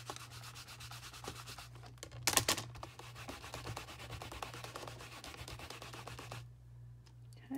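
Rubber stamps scrubbed on a Stampin' Scrub pad give a steady, close rubbing and scratching texture in rapid strokes, with a louder burst of scrubbing partway through before it stops near the end.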